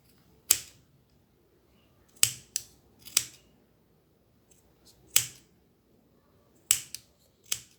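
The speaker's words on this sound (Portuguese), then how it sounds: "Agora, a gente corta esse excesso de tecido aqui de cima." Scissors cut away excess fabric while a button is being covered by hand, making about seven sharp, close snips spaced unevenly across the stretch, with quiet gaps between them.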